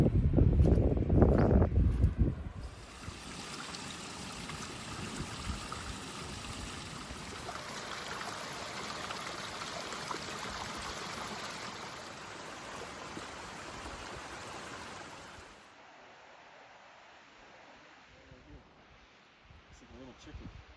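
Steady rushing water of a clear Colorado mountain stream in a gully fills most of the recording, with a loud burst at the start and quieter flow near the end.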